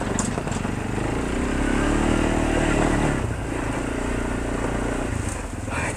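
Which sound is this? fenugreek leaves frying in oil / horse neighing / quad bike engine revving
quad bike engine revving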